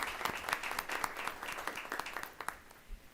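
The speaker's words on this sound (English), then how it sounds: "Let's give a round of applause." Clapping from a modest audience at a regular FBLA meeting honouring a newly appointed regional president, quiet and somewhat distant, with distinct individual claps that thin out and fade near the end.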